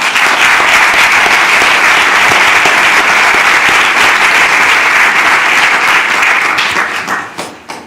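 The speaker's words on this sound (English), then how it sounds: "maybe we hold the applause for the last" A city council meeting audience breaks into sustained applause, loud and even for several seconds before tapering off into scattered claps at the close.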